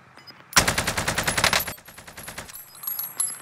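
A rapid burst of automatic gunfire rattles for about a second, then quieter game sounds and faint distant shots follow.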